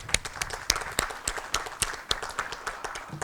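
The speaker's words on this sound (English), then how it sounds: "Can we give them another round of applause?" Scattered claps from a small audience at an alumni awards ceremony, sparse and uneven rather than a full ovation, moderately loud and fading in and out.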